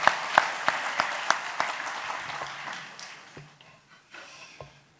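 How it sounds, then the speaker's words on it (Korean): A church men's fellowship worship service erupts in applause for a fellowship representative, a burst of hand claps that starts strong and thins out to scattered claps over several seconds. "우리 박수로 좀 격려해 주시면 감사하겠습니다"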